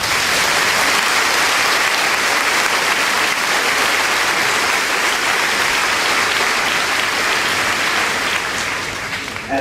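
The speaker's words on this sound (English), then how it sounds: "Please join me in a round of applause." A high school graduation audience gives faculty members a sustained round of applause, a broad, loud wash of many hands clapping in a large hall that fades slightly at the end.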